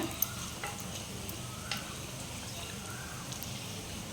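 Vamaku leaf bajji fry in hot oil with a soft, steady sizzle and a few faint clicks, heard quietly and close.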